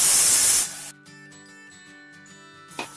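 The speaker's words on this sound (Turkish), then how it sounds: "İçerisine 2 su bardağı su ilave ediyorum." Two glasses of water are poured into a hot pan of rice pilaf filling meant for stuffing a whole chicken. A loud, steady hiss lasts under a second and then cuts off abruptly, leaving soft background music.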